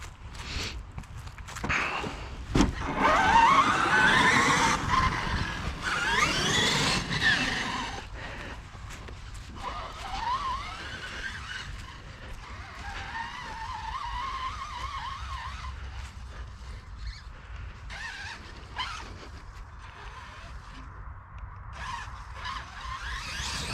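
An X-Maxx RC car brakes hard and skids, with bursts of tire scrubbing and whining motor noise early on. Quieter rolling and scraping sounds follow over a noisy outdoor background.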